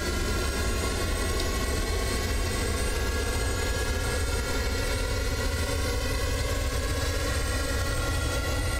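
Falcon 50 jet engines in a flight simulator drone steadily during a Mach climb, a constant loud whine and rumble with no variation.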